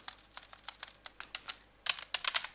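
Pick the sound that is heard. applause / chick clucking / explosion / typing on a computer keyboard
typing on a computer keyboard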